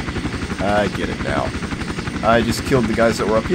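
Helicopter in the Iron Storm game, a loud rhythmic rotor thrum running throughout beneath someone talking over it, with sharp bursts layered on top.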